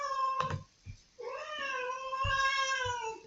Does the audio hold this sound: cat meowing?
yes